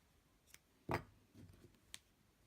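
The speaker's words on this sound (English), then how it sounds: "Oh, I've forgotten to cut the yarn." Scissors snip through yarn at the end of a finished crochet square: one sharp, close cut followed by a couple of fainter clicks, with no talking.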